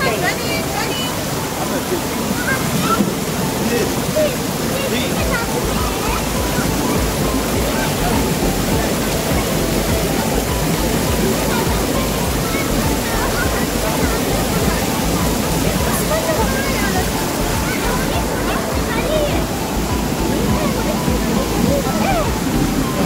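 Cold, clear river water rushes steadily in Lebanon during a family outing, a continuous broadband roar that runs unbroken throughout while children and adults talk and call out over it.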